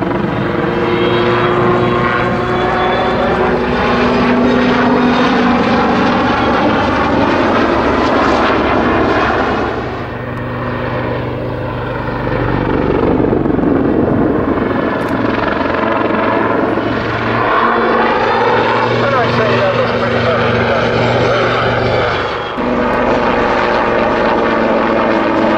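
Helicopter flying aerobatic manoeuvres, pulling up over the top and diving back down in a backflip; a loud, steady rotor and engine roar holds throughout, dipping briefly in intensity before surging again, with no talking.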